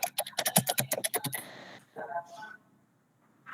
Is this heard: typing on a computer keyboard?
yes